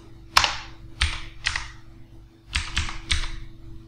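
Keystrokes on a computer keyboard at a desk: about six sharp, close clacks in uneven clusters over a low, steady electrical hum, with no talking.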